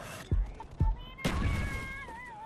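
Call of Duty gunfire: a few sharp, close shots and thuds in quick succession, followed by ringing tones, brief and punchy.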